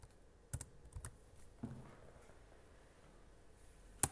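Sparse keystrokes on a computer keyboard while coding: a few separate taps, a short pause, then a final pair of sharp clicks, close and quiet over faint room noise.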